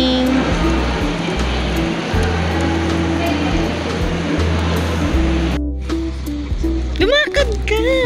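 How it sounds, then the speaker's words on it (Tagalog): Heavy rain pours as a dense, steady roar, loud and close throughout, with people talking over it and a brief dip in the noise near the end. "It's raining."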